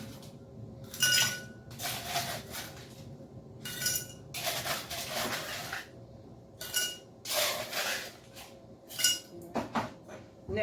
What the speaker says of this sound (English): let's add some ice to this mixture.